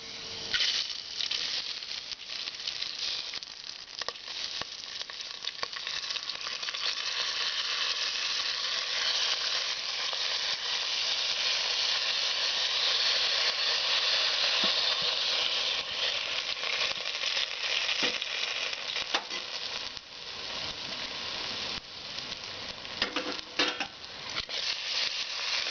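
Rice sizzles steadily as it fries in a pan with vegetables for Kerala-style vegetable fried rice, with a close, continuous hiss and occasional scrapes and clinks of stirring, with no talking.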